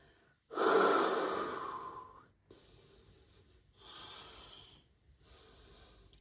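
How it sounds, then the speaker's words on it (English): After lunge hops in a workout, a person breathes heavily nearby. One long forceful exhale is followed by quieter, rhythmic panting breaths, with no speech. "Catching our breath from lunge hops."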